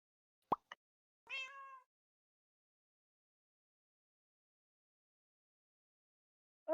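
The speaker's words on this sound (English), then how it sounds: "Damn it, cat sound effects." A cat meow sound effect plays on a stream: a couple of faint clicks, then a short, tonal meow, with another meow starting at the end, all quiet against near silence.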